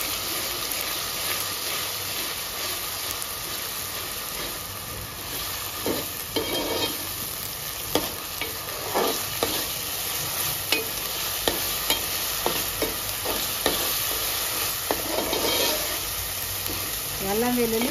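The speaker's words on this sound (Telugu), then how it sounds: "అల్లం వెల్లుల్లి పచ్చి వాసన పోయేంత వరకు ఫ్రై చేసుకోవాలి." Mutton with ginger garlic paste fries in a pan for a fenugreek mutton curry, loud and close, with continuous sizzling and repeated clacking spatula strokes that quicken toward the end.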